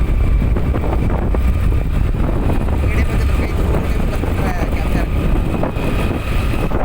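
A vehicle being driven, likely a pickup, rumbles steadily and close throughout with a constant low drone and wind noise, no pauses.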